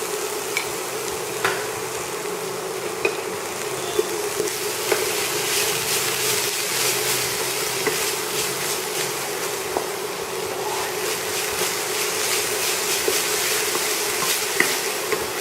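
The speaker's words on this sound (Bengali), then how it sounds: "নাড়াচাড়া করে যেন এগুলো ভাজা ভাজা মতো হয়ে যায়।" Vegetables fry in a pan with a constant close sizzle, while a spatula stirs and scrapes through them in scattered soft clicks and taps, with no voices over it.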